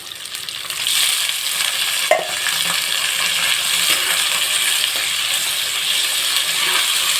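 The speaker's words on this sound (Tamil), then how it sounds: "வதக்குறேன். நல்லா க்ளீன் பண்ண ப்ரான் அதை போட போகிறோம்." Cleaned prawns sizzling and being stirred in a hot pan for a Kerala-style prawn mango gravy, a loud steady hiss with a sharp utensil clink near the start.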